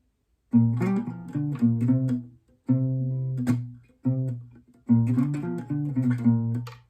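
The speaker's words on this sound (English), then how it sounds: "And the first 3 sections so far would sound like this." Guitar playing the first three sections of a song, several picked phrases of ringing plucked notes with brief gaps between them, close and clean with no talking.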